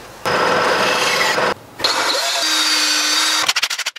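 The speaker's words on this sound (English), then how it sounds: "Okay, got a hole drilled." A power drill bores a hole in an old wooden croquet mallet handle, running in loud bursts with a brief pause, then a steadier whine before spinning down with rattling stops.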